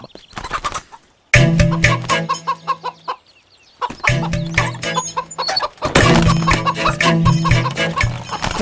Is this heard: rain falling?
no